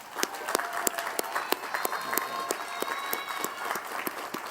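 A commencement audience applauds at a College of Education and Integrative Studies graduation in 2008, a dense, steady wash of many hands clapping with distinct sharp claps standing out, sustained throughout.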